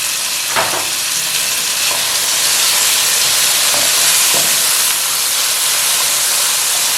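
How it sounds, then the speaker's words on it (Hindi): Onions, tomatoes and garlic paste frying in a pan for a cabbage and potato sabzi, a loud, steady sizzle and hiss with a few soft stirring scrapes, no voice. "हम जो है ये प्याज को फ्राई करेंगे। हमने टमाटर डाल दिए इसमें और साथ ही हमने लहसुन का पेस्ट इसमें ऐड कर दिया"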